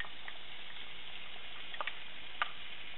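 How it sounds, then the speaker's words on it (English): Chopped onions sautéing in a pan, a steady soft sizzle with a few faint ticks and pops, no voices. "And we're just going to let those saute for a minute."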